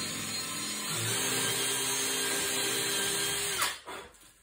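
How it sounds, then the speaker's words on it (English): A power drill with a small pointed bit bores an angled hole into a wooden desk chair part, a steady whirring drone that runs close and loud for several seconds before cutting off abruptly near the end. "I'm going to use a drill with a little point on it"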